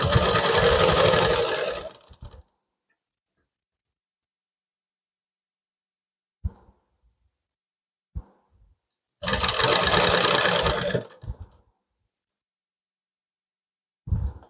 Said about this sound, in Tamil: பவர் மெஷினில் வந்து நம்ம ஸ்டிச் பண்ணலாம்.